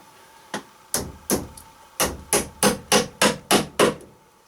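Ten sharp metallic strikes crimp or tap a clamp onto PEX water pipe during a home plumbing install, the blows coming in a fairly steady rhythm, loud and close with short gaps between them.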